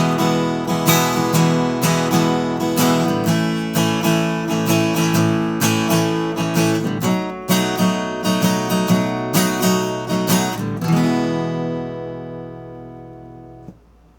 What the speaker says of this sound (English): I could play this basic chord progression with just a strumming pattern